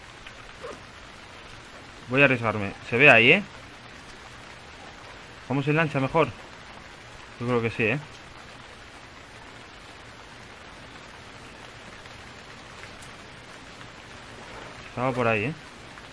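Rain falling in the survival video game Stranded Deep, a steady even hiss of downpour running throughout at moderate level, with someone talking in short bursts over it.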